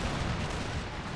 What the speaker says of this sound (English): Let's go ahead and open fire as the 14th Infantry